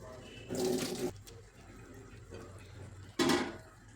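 Two short bursts of water pouring out as soaked rice for idli batter is drained, each about half a second, with quiet dripping and faint sounds in between.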